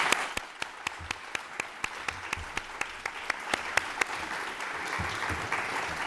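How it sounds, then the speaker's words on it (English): At a school board candidate forum, one person close by claps in a sharp, steady rhythm while a fainter room audience applauds behind, the nearby claps fading out toward the end. "So let's give them a round of applause."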